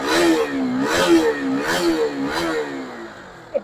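A 67-model RC 200 motorcycle in fresh condition revs repeatedly, its engine rising and falling in several loud, close bursts of throttle before settling, with a brief sharp click at the end.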